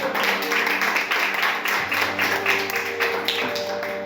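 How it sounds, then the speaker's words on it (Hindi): A congregation claps at a Sunday church service after a worship song, a dense, steady burst of applause that continues throughout, with faint sustained musical tones underneath. "आइए जोरदार तालियां उसके लिए।"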